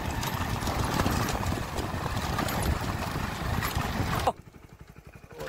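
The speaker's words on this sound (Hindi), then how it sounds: "चेतक घोड़ा सवार, और देखिए चांदनी घोड़ी राव की है" Horse hooves clip-clop steadily amid a busy, noisy outdoor crowd at a revaal chaal (gaited) horse race in Dhanavada, Abdasa, Kutch, then the din drops away abruptly near the end, leaving a few faint thumps.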